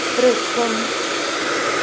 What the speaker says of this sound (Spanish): por un secador de pelo tranquilamente podemos trabajarle